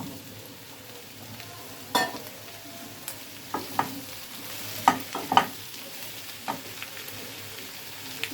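Tomatoes go into a pan of browned onions, giving a low frying hiss broken by sharp scraping knocks of stirring at uneven intervals, close and fairly quiet with no voices.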